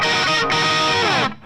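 Electric guitar riff played with reverb and delay: a loud, sustained distorted chordal passage with a brief dip midway, then cut off with the echo tail fading out.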